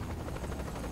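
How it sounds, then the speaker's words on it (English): Helicopter in the video game Saints Row, a steady whirring rotor drone filling the whole moment at even loudness, with no voices over it. "No, there's just a helicopter."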